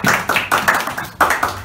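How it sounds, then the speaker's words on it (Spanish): A small group clapping during an interview, a few uneven rhythmic bursts of handclaps close by, with short gaps between them. "Un aplauso"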